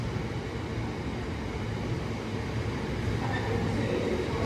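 A Class 66 locomotive hauling hopper wagons rumbles past at Stoke-on-Trent station with a heavy rolling roar and faint rhythmic wheel clatter, steady throughout and fairly close.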